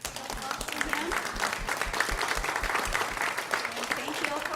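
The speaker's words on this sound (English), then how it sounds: "how about a applause for him?" An audience at a gathering in a retirement home applauds, producing a dense steady patter of clapping heard close under a low rhythmic thumping.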